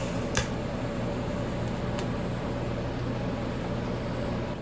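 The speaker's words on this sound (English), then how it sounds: "just waiting for the post flow to finish. That's the argon shielding gas that continues to flow afterwards to keep the joint from oxidizing" Argon shielding gas hissing as post flow after welding a damaged small bronze statue, a steady, even whoosh lasting throughout with a couple of faint ticks near the start, close and moderately loud, with no talk.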